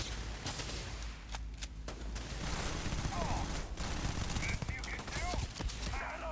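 Gunfire in the video game Starfield, with rapid bursts of shots and mechanical clicks under a voice, moderately loud throughout a busy combat scene.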